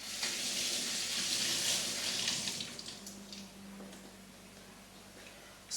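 Tap water runs and splashes while measuring spoons are filled with water for steak and kidney pie pastry; a strong hiss in the first half eases to a softer trickle, with a faint tick near the end.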